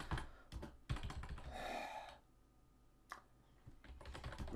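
Quick bursts of typing on a computer keyboard, with close, clicky keystrokes in uneven runs and short pauses, heard close up and alone.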